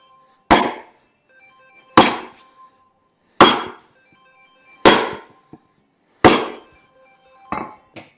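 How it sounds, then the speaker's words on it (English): A big hammer striking metal while a motor is being worked on, five loud, sharp, ringing clanks spaced about every second and a half and a lighter sixth hit, each one standing alone in a quiet space. "my hammerhead won't stay on, so we'll use the big hammer"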